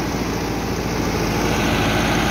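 A Russian Belarus tractor engine runs at a steady idle, a close, even diesel rumble with a continuous vibrating hum and no voices.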